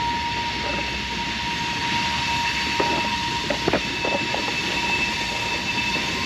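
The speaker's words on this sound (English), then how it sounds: "there's a train going by" A train rolls past in the background along a Montgomery, Alabama riverfront, a steady broadband rumble with a few faint metallic clanks and a sustained tonal whine over constant ambient noise.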